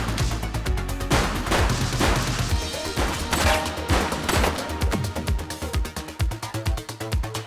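A shooter fires repeatedly in the police game The Precinct, a fast run of sharp, loud gunshots in close bursts that continues almost without pause, near and dominant, with no talk over it.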